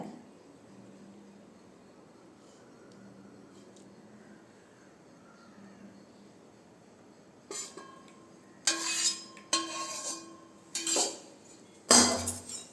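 Spoon scraping and clinking against a pan while jelly candy mixture is stirred, a few loud metallic strokes near the end after a quiet stretch.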